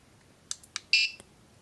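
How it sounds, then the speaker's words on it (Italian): Buzzer on a Meshtastic LoRa device beeps in a short series of clear electronic tones, two quick chirps followed by a louder, sustained beep that fades, with one last brief blip; quiet surroundings, no talking. "Il cicalino può suonare"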